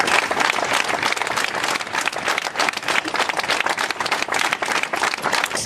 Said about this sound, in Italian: un lungo applauso a squarciare il silenzio